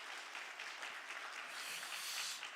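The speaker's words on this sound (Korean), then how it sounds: "우리 한번 이 시간에 우리 격려의 박수 하면 좋을 것 같아요." A church congregation at a Wednesday worship service gives a sustained, even round of applause of encouragement for a team, a dense steady wash of many hands that holds throughout without talk.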